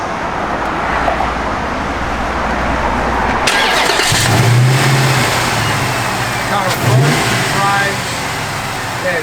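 A 1970 Dodge Challenger convertible drives on the road, its engine a steady loud rumble with wind and road noise, briefly revving in a low surge, while someone talks over it.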